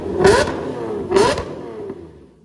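Straight-piped V12 Lamborghini engine blipped twice in sharp, screaming revs about a second apart, loud and close, each burst falling away before a faint trailing third pulse.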